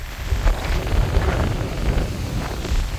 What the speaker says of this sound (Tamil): இந்த காற்றுல உங்களுக்கு அவ்வளோ நான் பேசுகிறது கேட்காதுன்னு நினைக்கிறேன்